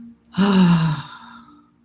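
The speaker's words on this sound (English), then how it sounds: "Take a deep inhale. Exhale." A single deep breath during a meditation session, a long audible inhale flowing into a sighing exhale, close and clear against a steady low hum, lasting about a second.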